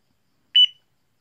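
A single short electronic beep from pressing a button on a digital LED cube desk alarm clock, sharp and close, with silence around it.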